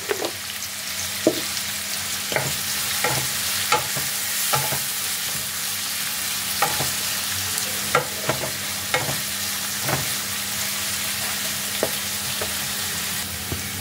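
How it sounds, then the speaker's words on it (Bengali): Onions frying with a little salt in a pan, crackling steadily, with regular scraping knocks of a spoon stirring them, and a faint low hum underneath. "পেঁয়াজ ভাজার সময় আমি এর মধ্যে দিয়ে দিচ্ছি সামান্য পরিমাণে নুন।"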